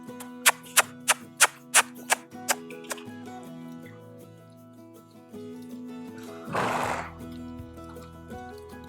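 A riding horse trots in a series of sharp, evenly spaced hoofbeats that fade after a few seconds, followed later by a brief, loud, breathy burst.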